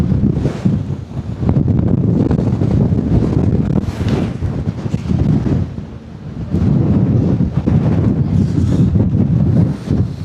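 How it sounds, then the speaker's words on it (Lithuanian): Strong wind buffets the microphone on the deck of a ferry at sea, a loud, continuous roaring rumble with gusting swells and a brief lull partway through. "Žiauriai vėjota, žiauriai."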